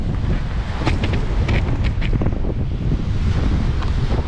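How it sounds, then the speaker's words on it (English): A bitter north-easterly wind batters the microphone on Cardiff foreshore in cold weather, making a loud, continuous roaring buffet with gusty surges and the faint wash of surf beneath. "The wind doesn't help by doing that, blowing the camera over nearly."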